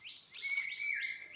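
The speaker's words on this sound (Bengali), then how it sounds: "পাখির বাসা দেখছে শরীফ, পাখির বাসা এই যে শান্তির পায়রা" Small birds chirp near a nest in a mango tree, a string of quick bright rising calls repeated three or four times over a second, fairly close and faint, with nothing else heard.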